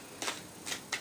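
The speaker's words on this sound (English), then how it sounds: "still shuffling some more will do it good" Tarot cards are shuffled in three short riffling bursts, close and soft, with no talking.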